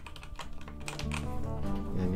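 Rapid keystrokes clatter on a Gamepower Saber RGB mechanical keyboard with red switches, a dense, soft, fairly muted run of close typing with a low background hum.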